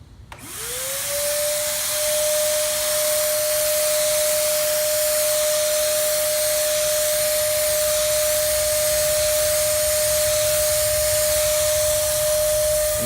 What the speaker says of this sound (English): what I'm going to do is just heavily spray it and push it toward an edge